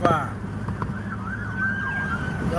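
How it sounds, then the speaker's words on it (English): Fire truck sirens wail in the distance, rising and falling in long sweeps over a low rumble of traffic and background noise, at a moderate, fairly distant level. "Y'all hear the fire trucks coming?"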